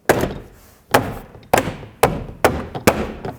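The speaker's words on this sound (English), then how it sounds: "Grab the upper door panel, line it up, and press it into place." Six firm thumps at roughly half-second intervals, close and solid, as the upper rear door panel of a 2008-2010 Ford F-250 extended cab truck is pushed and knocked into place.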